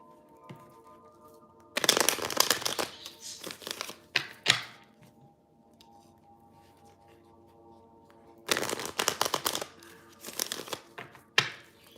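Tarot cards being shuffled by hand in two bursts of crisp riffling and flapping, with quieter handling and a few sharp taps in between, close and alone.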